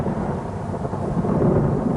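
Thunderstorm rain over the African savanna, a continuous low rumble of thunder with steady rainfall beneath, swelling slightly toward the end.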